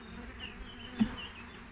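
A steady drone of honeybees buzzing, constant and moderately close, with a brief louder swell as one passes near.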